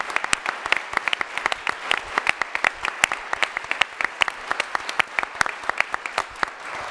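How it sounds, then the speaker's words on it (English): A debate audience applauds with sparse, distinct individual claps, a thin scattering of hands rather than a dense roar, steady and fairly close for about seven seconds. "Give yourselves a round of applause."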